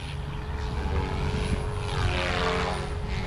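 An RC helicopter, an OMP Hobby M4 or Goosky RS4, spins its rotor in idle up on the bench, giving a steady close whirring drone with a constant motor whine throughout.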